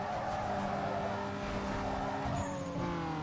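In the street-racing game Need for Speed Underground 2, an opponent's car closes in with a loud, continuous engine roar and brief tire squeals, near and unbroken.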